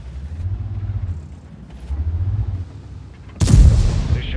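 A tank cannon fires in the World of Tanks video game, a single heavy boom bursting out near the end over a low rumbling engine drone that fills the earlier part.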